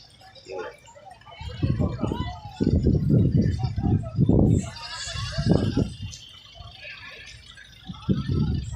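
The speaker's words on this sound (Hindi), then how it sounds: "ये सारी बकरियां" Goats bleating in a crowded Lahore livestock market, several loud, wavering calls overlapping close by, with murmured voices and market bustle in the background.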